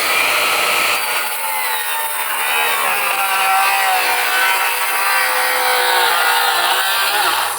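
A Makita 40V rear handle saw cuts through wood with a loud, close, continuous rasping whine that holds steady for several seconds without speech.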